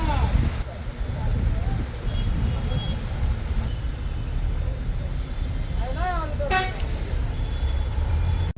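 Heavy road traffic jam with a steady low engine rumble throughout, several car horns honking, including a clear repeated toot late on, and voices in the background.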